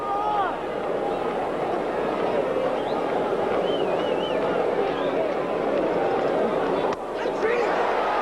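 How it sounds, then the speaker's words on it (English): Steady crowd buzz fills a baseball stadium at the 1980 World Series, Royals versus Phillies, a continuous broad murmur with faint distant calls and a broadcaster's voice over it. "You hear a little buzz with the crowd."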